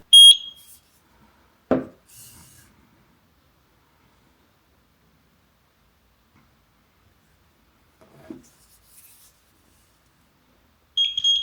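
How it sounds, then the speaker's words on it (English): A Eufy video doorbell gives short, high electronic beeps during Wi-Fi setup: a brief tone at the start, then near silence with faint handling noise, and another beep at the end. "Until you hear the beep."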